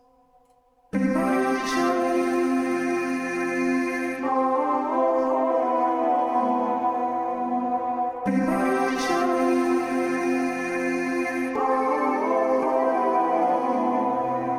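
Layered vocal harmonies from a remake of a song's chorus enter after a short quiet start, swelling into full sustained chords over two repeating phrases.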